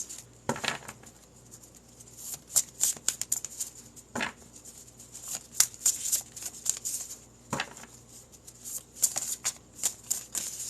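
Tarot cards being shuffled for a one-card pull, with a run of soft riffling flicks and patters, some sharper snaps, close by and fairly quiet, no talking.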